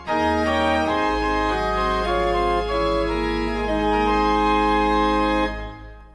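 A rare Trost pipe organ plays sustained chords with the mixture stop drawn, a bright, full sound over a steady bass pedal tone that ends with a short reverberant release.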